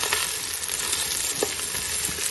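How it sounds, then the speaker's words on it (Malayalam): Chicken pieces frying in ghee in a pan for kabsa, giving a steady broadband sizzle with a few sharper crackles and pops throughout, close and fairly loud, no voices. "ഇനി നമുക്ക് ഈ ചിക്കൻ ഒന്ന് പൊരിച്ചെടുക്കണം. നമുക്കിത് നെയ്ക്കകത്തൊന്ന് വഴറ്റിയെടുക്കാം"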